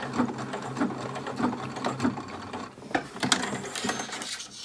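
A sewing machine back stitching a cloth face mask runs in short rhythmic bursts of rapid clattering stitches, close and fairly loud, with brief pauses and light mechanical clicks between runs.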